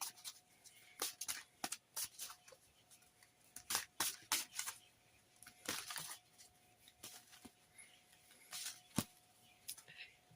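Oracle cards being shuffled by hand, with soft, quiet papery riffles and slaps coming in irregular bursts against a faint steady hum.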